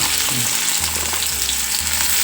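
Onions sizzle in hot coconut oil in a pan, a loud, dense, unbroken frying hiss heard up close with no voices.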